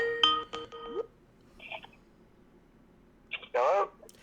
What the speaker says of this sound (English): Let's see if he picks up the phone.